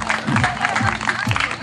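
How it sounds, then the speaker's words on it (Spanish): A crowd applauds at a town festival crowning ceremony in Tejutla, Chalatenango, a short loud burst of clapping and cheering close by, with voices mixed in. "Démosle un fuerte aplauso."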